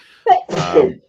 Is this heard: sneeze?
yes